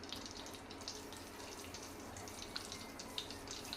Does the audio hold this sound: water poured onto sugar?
yes